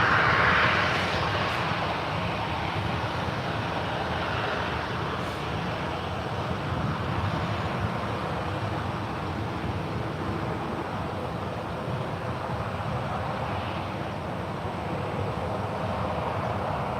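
A United Boeing 737-900 on runway 01 right at SFO, bound for Denver, gives off a loud continuous broadband jet engine roar that holds steady throughout its takeoff roll.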